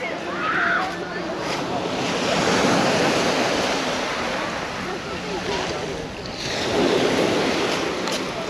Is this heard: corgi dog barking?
no